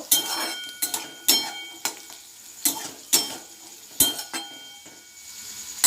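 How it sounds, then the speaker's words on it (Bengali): A spoon scrapes and clinks against a pot while vermicelli kheer is stirred, with repeated sharp metallic knocks at an irregular pace over a faint sizzle, close and fairly loud, no talking. "এটাকে আমি একটু ভালো করে নেড়ে চেড়ে নেব।"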